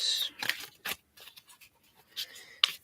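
Soft, papery riffling and light snaps of cards being shuffled, in short irregular bursts, close and fairly quiet.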